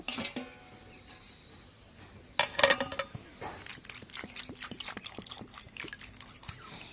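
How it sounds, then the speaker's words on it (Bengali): Ripe yellow karbhanga fruits are rubbed and washed by hand in water, giving close splashes, drips and trickles with a brief louder burst of sloshing midway, then steady small watery rubbing sounds. "এইভাবে করে ঘষে ঘষে খুব ভালো করে করভাঙাগুলোকে ধুয়ে নিতে হবে"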